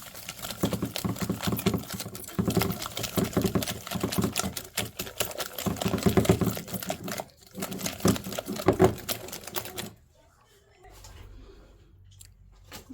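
A whisk or spoon rapidly beats three eggs with sugar in a bowl for muffin batter, a close, busy clatter for about ten seconds before it falls quiet.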